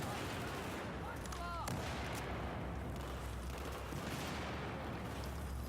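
Scattered gunfire across a Battlefield 4 PS4 map, with intermittent distant shots and one sharper crack early on over a steady rumbling battlefield backdrop, fairly quiet overall with faint speech.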